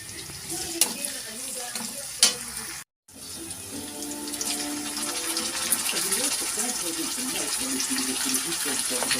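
Chicken with pineapple sizzles and crackles steadily in a hot pan, with occasional stirring clinks and a brief drop to silence partway through.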